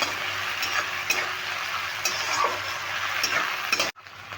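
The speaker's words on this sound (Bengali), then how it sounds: "ছোলার ডালগুলো একটু মেরে ভেজে নেবো" Chana dal (split Bengal gram) fries in a pan as a steady, close sizzle with faint stirring scrapes, cutting off abruptly near the end.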